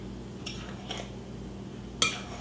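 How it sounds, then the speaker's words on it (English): Cornbread batter being stirred in a bowl, a quiet scrape with a few soft clinks of a utensil against the side and one sharper knock near the end, with no talking. "Just kind of stir it around so that it's just kind of all evenly mixed"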